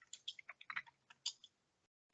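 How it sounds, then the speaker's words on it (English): Soft, quick clicks of computer keyboard typing during an online community call, an irregular run of keystrokes fairly close, then stopping, with no talk. "I'm typing into the chat"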